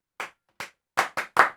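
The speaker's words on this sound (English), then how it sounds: "Did you guys do the clapping?" Five sharp hand claps, two spaced singly and then three in quicker succession, close and fairly loud with no one talking.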